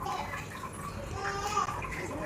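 Water is poured and stirred into a batter of jaggery, salt, cumin and chili, giving a faint, continuous sloshing and swirling of liquid with soft bubbly splashes throughout.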